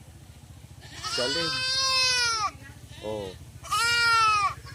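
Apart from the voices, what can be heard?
goat bleating on a farm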